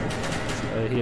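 Rapid gunfire in a video game rattles in a dense, continuous burst, with a voice talking over the shots.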